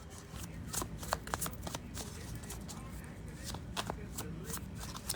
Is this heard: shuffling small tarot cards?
yes